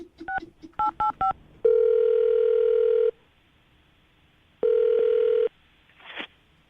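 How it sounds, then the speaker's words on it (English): A telephone dials a number with a quick burst of touch-tone beeps, followed by two long, steady ringback tones separated by a pause, clear and close. "I'm going to dial the phone number right now"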